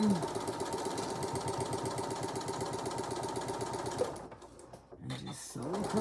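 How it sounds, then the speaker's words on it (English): A sewing machine runs steadily across a zipper pouch, its rapid rhythmic stitching close and loud for about four seconds before stopping briefly, then starting again. "And just sew across."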